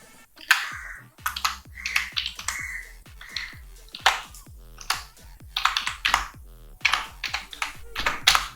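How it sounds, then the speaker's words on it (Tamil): Quick, uneven keystrokes on a computer keyboard as an email address is typed, with clicky taps in short bursts and brief pauses, close and clear with no talking. "அதே மாதிரி நான் டைப் பண்ணி காட்டுறேன்."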